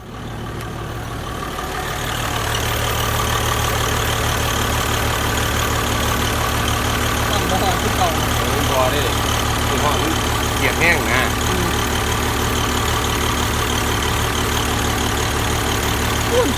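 Vehicle engine idling steadily after a fuel pump solenoid repair, a low continuous mechanical hum that settles in after the first couple of seconds, with faint voices in the background.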